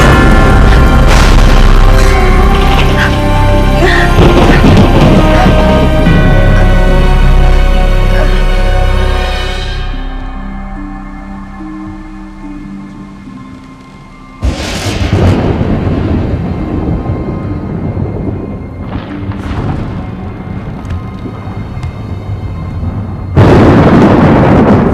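A loud thunderstorm with heavy rolling thunder and long booming rumbles that fade into quieter rain, then sharp new cracks and crashes of thunder burst in again, alone with no voices.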